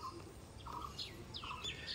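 Short birdlike chirps and calls from racing pigeons in a home loft, several brief tweets scattered over steady low background noise, fairly close, with no talk.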